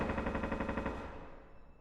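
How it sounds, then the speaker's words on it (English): Rapid automatic gunfire during a competitive video game match, a short rattling burst of shots that quickly fades into a trailing echo. "There's fire exchange."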